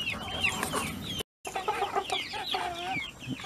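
Golden sex link hens clucking close by, a busy overlapping run of clucks and murmuring calls with a brief silent gap.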